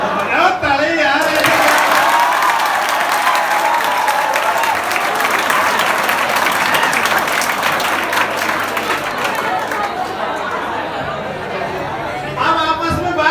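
Schoolchildren at a DAV school laughter-motivation show break into loud, dense applause mixed with crowd chatter. The clapping holds steady for over ten seconds before tapering off near the end.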